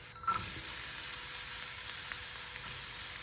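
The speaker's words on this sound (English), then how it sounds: "a couple of tablespoons of oil, and then I'm gonna cook the onions" Onions hitting a hot pan with a couple of tablespoons of oil, a sudden loud sizzle after a brief quiet start that settles into a steady, close hiss with no one talking.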